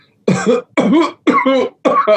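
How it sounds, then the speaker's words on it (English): Four demonstrated coughs from deep in the bronchial tubes at their bifurcation, each a harsh voiced burst, evenly spaced and close, with no talk. "cough from the bifurcation in the tubes"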